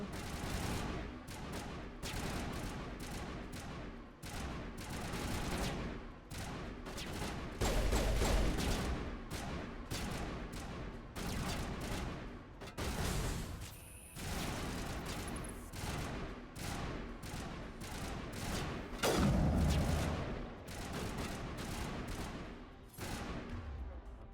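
Rapid pistol fire in the Mass Effect video game, repeated sharp shots in quick bursts with brief pauses, loud and close, with little talk over it.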